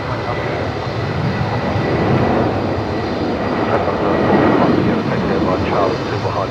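Jet airplane taking off at Brisbane Airport at twilight, a loud broad engine roar that swells and holds steady, with air traffic control radio voices talking over it.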